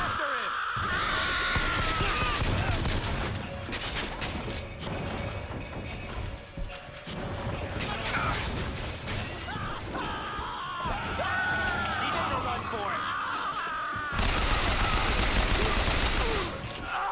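Rapid machine gun fire in the Bioshock Infinite shooter, sustained bursts under shouts and yells from enemies, loud and close throughout, with brief pauses and thuds between volleys.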